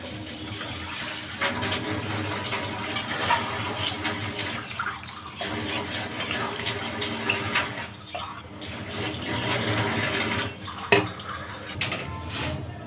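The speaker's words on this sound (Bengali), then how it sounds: "এবার জল দিয়ে দেব।" Water poured into okra cooking in a mustard curry in a pan, a steady continuous splashing pour that runs throughout, fairly close, with a brief clatter near the end.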